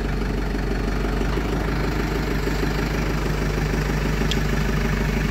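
Steady diesel idle of a JCB 3CX backhoe loader, a constant low, knocking engine drone heard close up and unchanging throughout, with no talking.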